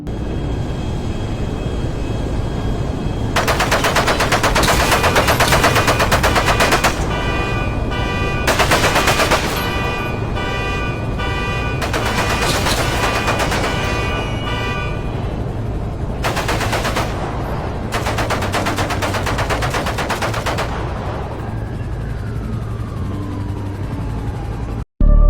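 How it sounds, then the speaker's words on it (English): Bursts of rapid gunfire in recorded footage of a street shooting, several loud sustained volleys separated by short pauses over steady background noise, with a tone sweeping downward near the end. "Lil J would chase down Breezy and shoot him multiple times"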